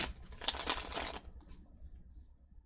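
Tarot cards riffle and slide against each other in a close, dense burst of shuffling, then taper into faint light rustles and a few soft crisp flicks.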